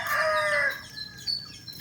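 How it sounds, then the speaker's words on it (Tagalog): A chicken calls out with a drawn-out, crowing-like cry, followed by a few softer clucks and faint chirps nearby, among many chickens. "Daghang manok oh"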